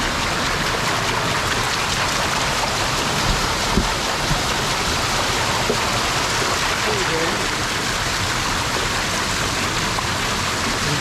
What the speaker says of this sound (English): So we opened the gate there just a little bit. You can see the water sucking through there.